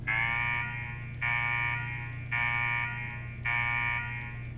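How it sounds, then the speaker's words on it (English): A harsh, loud buzzing alarm blares in four long repeated bursts, each with a short gap, over a steady low hum in a Fallout 4 video game scene. "What the hell is that alarm?"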